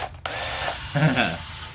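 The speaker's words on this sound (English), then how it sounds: "But this drill, as you can hear, is loud." Loud electric drill driving a paddle on a float tube, a steady mechanical whir with ratcheting, grinding texture that rises in strength near the end, close and alone.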